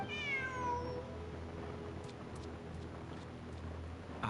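A cat meows once in a video game, a clear rising and falling mew near the start, followed by quiet ambient game background with faint clicks.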